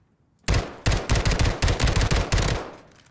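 Rapid automatic gunfire from the video game Warzone: loud, close bursts of sharp shots, a brief volley then a sustained string of about eight to ten evenly spaced cracks before stopping.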